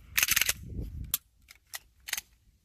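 An Arex Rex Delta pistol fired outdoors, several crisp, sharp shots spaced unevenly and heard up close, with a short cluster at the start followed by single reports.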